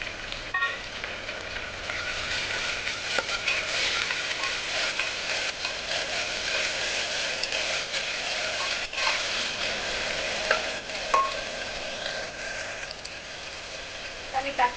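Green chillies and tomato frying in a pan, giving a continuous crackling sizzle with scattered pops that runs throughout at moderate loudness, with no talking.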